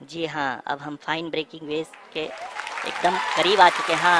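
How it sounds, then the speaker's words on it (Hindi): Applause swells behind a Hindi commentator at the Chandrayaan-3 Moon landing broadcast, dense clapping rising under the talk in the second half while he keeps speaking. "आप तालियों के गड़गड़ाहट से सुन सकते हैं कि"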